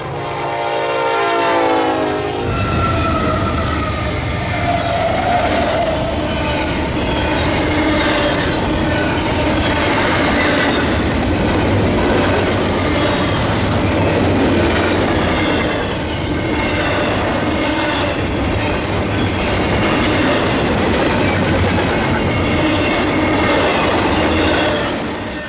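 A KCS freight train passes close by: a horn sounds briefly at the start, then a long, steady, loud roar of rolling cars and wheels carries on with faint squeals and clacking throughout.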